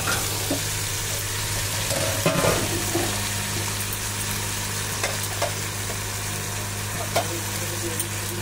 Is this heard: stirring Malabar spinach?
yes